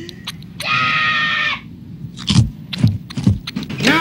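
A cartoon child's high, sustained scream rings out clearly for about a second in a domestic scene, followed by scuffing movement sounds and footsteps, with no talking.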